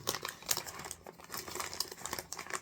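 A bag of small plastic poly pellets crinkles and rattles in handling, soft irregular crackles and patters close by and quiet.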